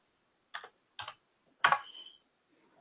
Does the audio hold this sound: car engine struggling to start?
no